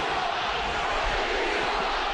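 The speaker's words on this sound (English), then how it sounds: "Crowd's not happy about that." Hockey arena crowd at a Western Conference Finals game between Fort Wayne Komets and Colorado booing and roaring in displeasure over a penalty call, a dense, loud, sustained wall of voices.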